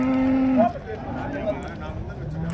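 Punganur cattle at a livestock market let out a loud, close moo lasting about half a second, followed by fainter lowing and a busy murmur of crowd noise in the background.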